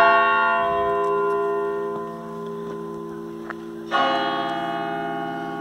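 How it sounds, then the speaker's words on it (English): Church bell in the old town of Calw ringing with sustained, shimmering tones that slowly fade, then a fresh strike near the end sets off a bright new chime, loud and close. "the church bell isn't this fancy as you can hear."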